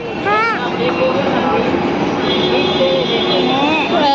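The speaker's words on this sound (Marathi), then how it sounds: "ही ट्रेन आहे, स्टेशन ठाणे ट्रेन लागली आहे बघा" A train rumbles steadily at busy Thane station, with mechanical whine and hum filling the space and a few voices and squeals mixed in.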